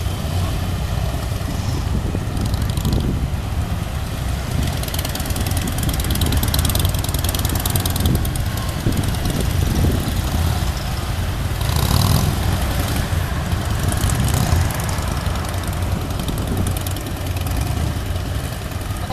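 Motorcycles of a touring club display team ride in tight formation, circling in both directions, giving a steady, loud, continuous engine drone with no pauses throughout.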